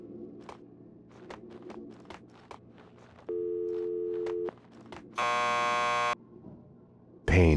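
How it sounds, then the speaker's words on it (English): A door buzzer in the Max Payne 2 video game sounds as a flat, sustained electronic tone, followed by a second harsher buzz, amid footsteps and small interior noises, with another burst at the end. "Just press the buzzer by the door."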